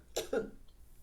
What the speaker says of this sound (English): I need to take a break because I got some coughing to do.